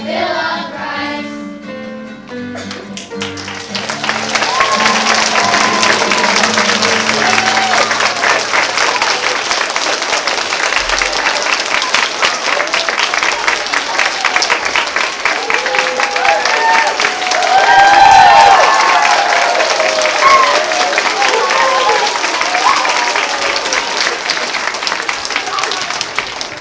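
Applause and cheering from a school audience after a 5th grade history play song, a sung tune fading out before sustained, loud clapping fills the room with crowd noise for over twenty seconds.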